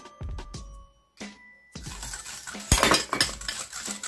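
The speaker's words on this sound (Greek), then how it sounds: "θα το ανακατέψουμε λιγάκι με ένα σύρμα χυρός, θα προσθέσουμε και την κανέλα" A wire whisk clinks and scrapes against a metal pan while melted butter is mixed with cinnamon, with a pause and then a busier burst of rapid whisking.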